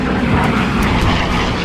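A WWII Helldiver dive bomber's piston engine roars steadily and loudly as the plane dives, a dense continuous drone with no pauses and no voices.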